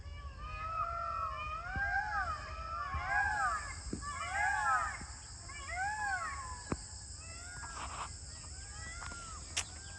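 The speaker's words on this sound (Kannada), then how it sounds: "ನವಿಲ್ಗಳು ತೆಂಗಿನ ಮರದ ಮೇಲೆ ಎಲ್ಲ ಮಲ್ಕೊಳ್ತಾವೆ ಅನಿಸುತ್ತೆ. ಎಲ್ಲ ತೆಂಗಿನ ಮರದ ಮೇಲೆ ಇದ್ದಾವೆ, ಕೂಗ್ತಾ ಇದೆ." Peacocks perched in coconut trees call repeatedly from a distance, rising and falling wails coming in clusters over faint background hiss and insect buzz.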